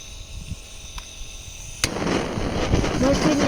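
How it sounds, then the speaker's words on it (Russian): A flamethrower gun fires into a campfire built from wooden planks, igniting with a sudden burst followed by a continuous roaring hiss, while someone talks nearby. "Теперь мы берем пушку-огнемет."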